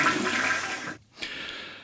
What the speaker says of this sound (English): The sound of someone who really needs a toilet weeing really powerfully into the water.